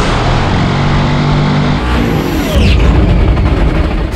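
An 11,000-horsepower Ford Mustang drag car at wide open throttle gives a loud, continuous broadband roar that swells and grows harsher midway, close and filling the whole clip.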